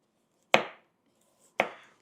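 A budget kitchen knife, fresh from unboxing, chops twice on a cutting board: two crisp, loud thuds about a second apart, each fading quickly into near silence.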